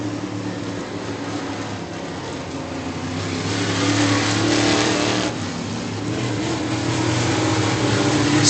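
Late model race cars roar around a racetrack, engine noise swelling and fading as they pass, loud and continuous with rising revving surges.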